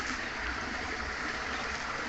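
Water flows steadily at a stream inlet at a fishing spot, a constant rushing wash with no breaks, close and moderately loud.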